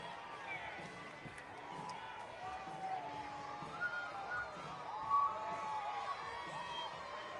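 Crowds along a New Orleans night parade route cheer and chatter outdoors in a distant, busy wash of voices and whoops, with people talking nearby throughout.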